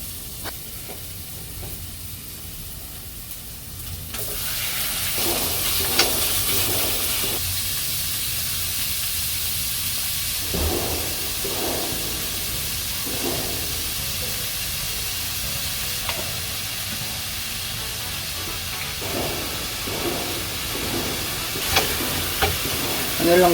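Onion and garlic sizzle steadily in a frying pan, a continuous close hiss with occasional stirring scrapes; a voice speaks faintly at times.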